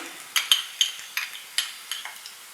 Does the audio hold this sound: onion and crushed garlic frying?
yes